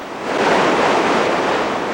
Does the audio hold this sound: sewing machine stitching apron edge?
no